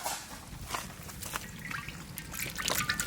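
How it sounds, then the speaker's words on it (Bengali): Mustard oil poured into a pan for frying chicken pakora at an outdoor village cooking setup, a short close trickle and dribble of liquid that grows slightly livelier toward the end. "দিয়ে দেবো সর্ষের তেল।"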